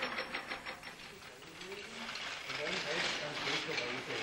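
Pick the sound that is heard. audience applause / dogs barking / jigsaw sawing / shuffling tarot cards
jigsaw sawing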